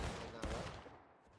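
Musket volley in a War of Rights Civil War battle at Antietam, a sharp crackling burst near the start that rolls into a dense low rumble of scattered shots.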